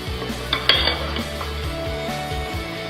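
A spoon folds tres leches cake batter in a bowl with soft repeated scrapes and wet thuds, plus a couple of light clinks against the bowl, close by.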